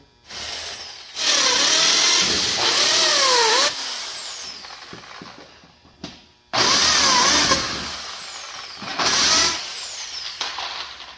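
A power drill with a 3/16 bit whirs in three long bursts drilling bolt holes for a car front splitter, its pitch rising and dipping as it bites into material, with brief quiet pauses between holes.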